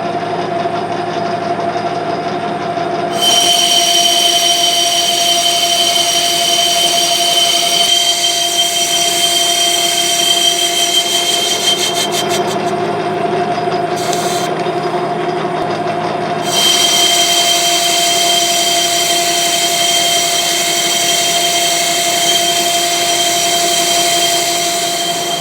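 A lathe with a six-jaw chuck spins steadily at 350 RPM, giving a continuous close mechanical hum with a high, squealing ring that fades and returns over about 25 seconds. No one speaks.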